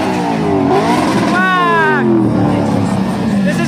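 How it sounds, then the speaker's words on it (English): Car engines revving at an underground tuner car meet in India, including an Audi RS5, with loud rising and falling engine whines up close amid crowd chatter and someone talking over them. "The cars revving out there, and it will sound more louder than ever."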